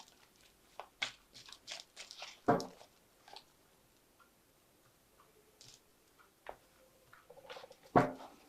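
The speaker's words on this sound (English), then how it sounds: "I'm just going to draw some cards from it." Tarot cards drawn from a shuffled deck: sparse, close-up taps, slides and sharp snaps of card stock, with two louder slaps standing out between quieter handling sounds.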